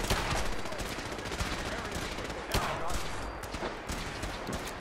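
Rapid gunfire bursts in Fallout 4 during a battle at Boston Airport, dense and fairly loud shots crackling over game ambience, with someone talking excitedly over the action.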